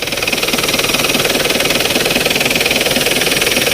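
A green Isuzu TFR 2.5 pickup engine idles up close, a loud, steady, even diesel-like chug with a fast regular pulse and no voices over it.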